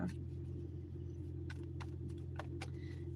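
Low, steady engine rumble and hum inside a car, quiet and continuous, with a few brief faint clicks and rattles over it.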